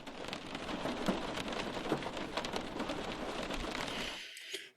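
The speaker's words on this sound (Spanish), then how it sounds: "este programa Opal tiene lluvia," A rain ambience from the Opal ambient sound program: dense, steady rainfall patters on a surface with scattered droplet ticks, continuous and full, cutting off abruptly near the end.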